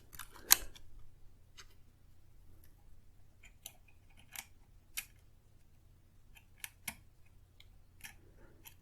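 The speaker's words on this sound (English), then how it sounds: "the keyboard kind of just pops in a couple of places here" Plastic keyboard of a Tandy 1110HD laptop being pressed into place, giving a series of sharp, isolated snaps and clicks spread irregularly across a quiet background with a low steady hum.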